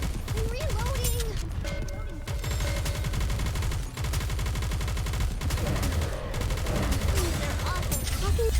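Rapid gunfire rattles almost nonstop through the battle in Nikke: Goddess of Victory, loud and continuous, with game music and voice lines layered over the shooting.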